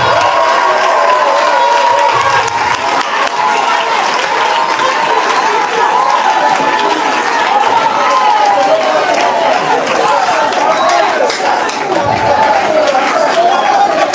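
A church congregation at a prophetess's teaching cheers and acclaims loudly without a break, a dense crowd roar of shouts and voices that fills the room from start to finish.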